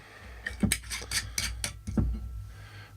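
A twist cap being screwed back onto a bottle of Strathcolm 12 year old whisky: a few close, small clicks and scrapes of the cap against the glass neck, in a quiet room.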